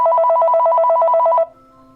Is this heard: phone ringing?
yes